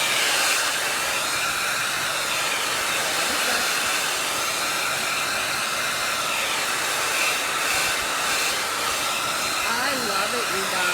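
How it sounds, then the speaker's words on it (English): Hair dryer drying paint on a DIY pumpkin fall sign, a steady loud whooshing blow that runs continuously and evenly throughout, close up with no talk. "I gotta get my hair dryer out so we can dry this up"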